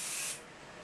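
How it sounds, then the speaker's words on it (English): Adhesive sprayed from an aerosol can onto a landscape model, a loud close hiss for about a third of a second that then cuts off into quiet room tone. "I'm just going to spray this with a bit of tempering adhesive"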